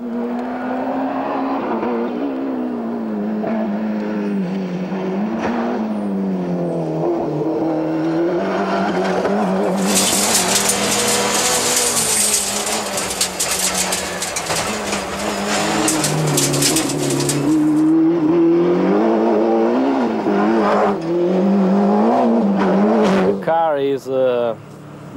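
A Group A Ford Escort RS Cosworth rally car, a two-door, drives hard on narrow twisty roads, its engine rising and falling through revs with a burst of loud gravel spray in the middle, up close.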